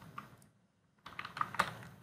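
Someone types on a computer keyboard in quiet, close keystroke bursts, pauses for about half a second, then resumes with faster, slightly louder clicks, with no voices.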